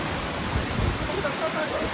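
Heavy rain and strong typhoon wind near the sea roar as a dense, steady wash of noise, with a voice speaking faintly underneath.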